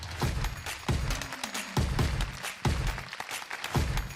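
An audience at an evening awards ceremony claps in a quiet, fairly distant burst, uneven hand claps continuing throughout without speech.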